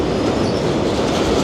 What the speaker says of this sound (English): Big heavy freight train rattling on past us.